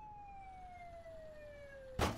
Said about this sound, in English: Go ahead and kill the siren.